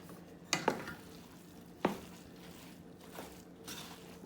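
A spoon works through soft cornbread dressing in a bowl, a few sharp scraping knocks and quiet squishy mixing sounds, close and fairly faint.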